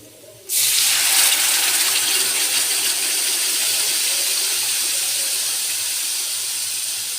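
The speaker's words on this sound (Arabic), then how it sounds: "وهنا نحط الصلصه" Tomato sauce poured onto Egyptian koshari, a steady close hiss-like wash of liquid that starts abruptly and continues evenly to the end, no voices.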